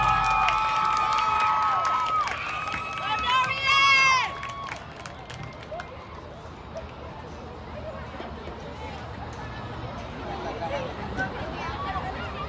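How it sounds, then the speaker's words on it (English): At a school homecoming ceremony, an outdoor crowd shouts and cheers with high whoops and whistles near the start, then settles into a steady murmur of voices and scattered clapping. "please join me in a final round of applause for this illustrious group of students"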